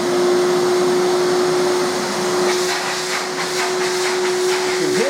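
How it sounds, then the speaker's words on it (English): A skyVac Atom gutter cleaning vacuum roars with steady, loud suction and a constant whine, its airflow pulsing slightly as the nozzle grabs at a surface and is bounced up and down. "You can hear the suction, you can hear it trying to suck onto it."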